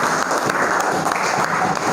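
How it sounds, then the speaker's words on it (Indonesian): Classroom applause from students, a sustained rough patter of many hands clapping at close range, steady and fairly loud throughout. "tepuk tangan dulu untuk kita semua"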